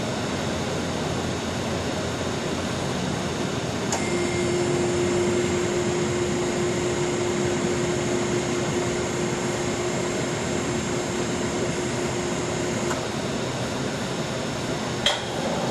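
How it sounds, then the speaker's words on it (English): A G50HV universal roll bender with PQ2 control runs through its cycle, a steady mechanical hum with a sustained tonal whine starting a few seconds in and cutting off near the end, followed by a brief click. "So as you can see, the machine's cycling, and if I release, it stops the machine at that point."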